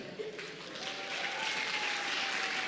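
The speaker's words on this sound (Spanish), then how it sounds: "Un aplauso para el Santa." Congregation applause for Santa at a Christmas church service, a faint, steady wash of clapping that builds slightly and continues evenly, with a voice heard briefly over it.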